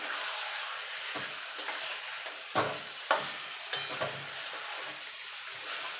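Chicken pieces frying in a pan with onions for gandharaj lemon chicken, a low continuous sizzle with a few sharp stirring scrapes near the middle, close and fairly quiet, no voices.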